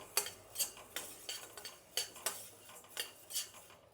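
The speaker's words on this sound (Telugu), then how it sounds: "ధనియాలకైతే నేను ఆయిల్ వేయలేదు, అలానే వేయించుతున్నాను." Coriander seeds dry-roasting in a pan without oil rattle and scrape under a stirring utensil in quick, regular strokes, a faint, close series of crisp clinks and rustles with no voice.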